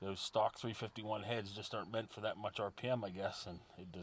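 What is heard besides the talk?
No everyday noises stand out.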